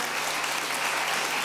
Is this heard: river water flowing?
no